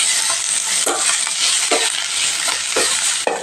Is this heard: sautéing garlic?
yes